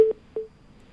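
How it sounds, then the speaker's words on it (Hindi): A phone call cutting off during a live Hindi TV news phone-in gives two short, clear beeps of a disconnect tone, about a quarter second apart, then near silence. "उनका फोन कट गया या काट दिया"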